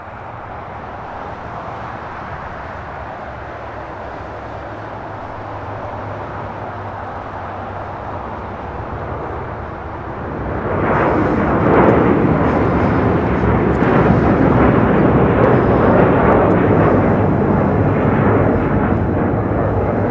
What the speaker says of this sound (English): we got the big Q. A350-1000 next departure. 25 right.